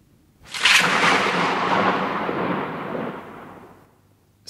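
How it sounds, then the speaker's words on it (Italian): A close lightning strike: a sudden sharp crack bursts out and rolls into a loud, broad rumble that slowly fades over a few seconds. "Scarica di fulmine."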